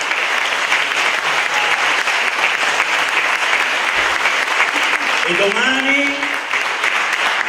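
A hall audience applauds a former mayor who began a town twinning in 1986, a dense, loud and steady round of clapping with a brief voice heard over it toward the end.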